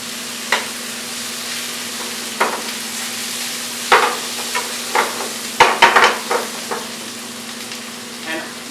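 Onions fry over a full flame for a chicken curry, a steady sizzle broken by sharp scrapes and clacks of a spoon stirring the pan, close and clear with no talking.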